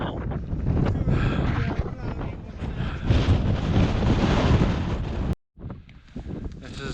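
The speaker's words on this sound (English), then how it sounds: "the wind is brutal" Strong gusty wind buffets the microphone on a mountain path up Moel Siabod, a loud continuous low roar with a brief dropout near the end.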